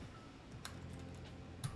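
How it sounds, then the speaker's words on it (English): Quiet typing on a keyboard with smooth switches and PBT keycaps: a few soft, sparse keystroke clicks, two of them more distinct, close to the microphone against a faint background hiss. "Really nice sounding keyboard, smooth switches"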